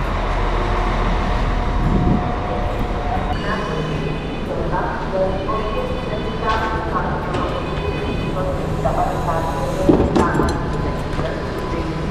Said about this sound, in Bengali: সেই ট্রেনে করে আমরা যাব ক্লাবনি নাদরাজি বা সেন্ট্রাল রেলওয়ে স্টেশন